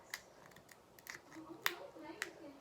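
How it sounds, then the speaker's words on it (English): Small, sharp scissors snip several times in quick, quiet, irregular clicks, close by but faint, with low background noise. "So, I got some scissors. These are small, but they cut through because they're sharp."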